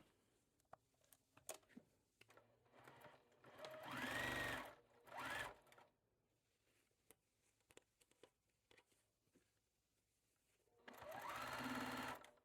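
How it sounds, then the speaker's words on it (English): Home sewing machine stitching pieces of a stars and stripes quilt together in short bursts, a few seconds of steady whirring separated by quiet pauses with faint handling noises, close and alone without talk. "you're just going to sew this together"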